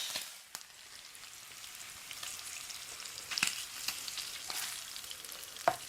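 Yakiniku beef sizzles in a pan at home, a steady crackling hiss with scattered sharp pops and spits that flare up now and then, fairly quiet with no voices.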